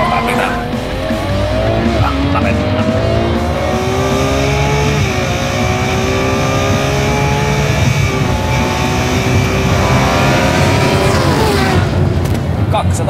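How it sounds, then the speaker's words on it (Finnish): A Ferrari 812 Superfast at a Teknavi 2019 driving event revs and accelerates hard, its loud engine note climbing steadily through repeated gear sweeps and roaring close throughout, with a brief tire-squeal character and a person speaking over it. "Eipä tarvitse kuin hipaisun kaasuun, niin kierrokset nousevat reilusti yli 5000."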